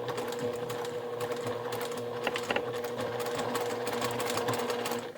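A sewing machine back tacking a zipper pouch seam, its needle chattering in a fast, steady mechanical rhythm close up, with no talking.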